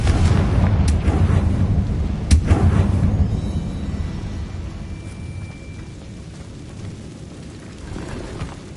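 An explosive Bombarda spell in Hogwarts Legacy, a single heavy boom followed by rumbling debris that fades into quieter ambience.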